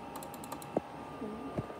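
Typing on a desktop computer keyboard: a quick run of light key clicks at the start, then a few scattered taps over a quiet room.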